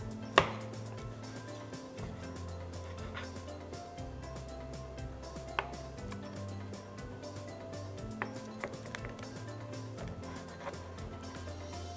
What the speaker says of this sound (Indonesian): Ini akan sangat lembut banget dipotong karena udah nggak ada durinya ya.